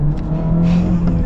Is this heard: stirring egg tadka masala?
no